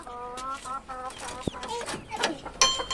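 Several chickens clucking close by in a rural yard, with repeated short rhythmic clucks and cackles layered over one another and faint farmyard background noise.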